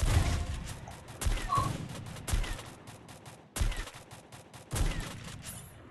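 Gunfire in the mobile shooter Free Fire: repeated sharp bursts of shots in quick clusters separated by short gaps, loud and close, with no talking.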